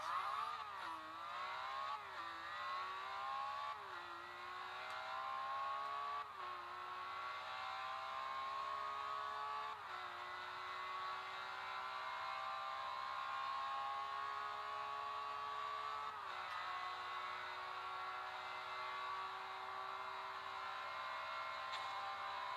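Lamborghini Aventador engine in the racing game Forza Horizon 2. Loud revs climb repeatedly and drop back at several quick gear shifts, then hold a long sustained high-rev scream.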